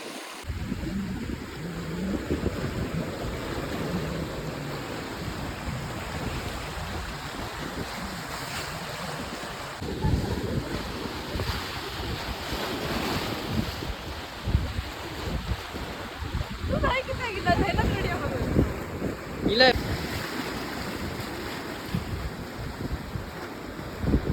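Sea waves wash and splash onto a hidden beach in the Konkan at sunset, a continuous rolling roar with surges and heavy wind noise buffeting the microphone throughout.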